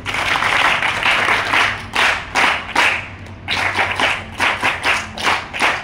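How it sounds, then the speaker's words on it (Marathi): An audience at a school event claps in a dense, loud burst of applause that dips briefly, then resumes in rhythmic waves of unison clapping, with no one speaking over it. "त्यांच्यासाठी एकदा जोरदार टाळ्या वाजवूया आपण."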